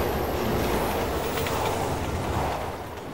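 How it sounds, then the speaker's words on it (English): Train from the video game Resident Evil 6 rumbling past steadily and loudly for the whole stretch, a dense continuous roar with faint rail clatter that eases slightly at the end. "Okay, train. I'm ready for you this time."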